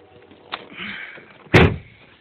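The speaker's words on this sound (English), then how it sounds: "Close the door here so we can get an idea of the internal sound." A Mustang GT's car door closes with one solid, close slam, preceded by a faint click of the handle or latch and followed by a quiet interior.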